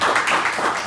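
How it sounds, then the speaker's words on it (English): Brief burst of clapping from an audience applauding the piano player at a ceilidh, dense and close. "Big round of applause for Iain here on the piano too."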